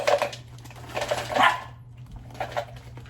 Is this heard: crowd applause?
no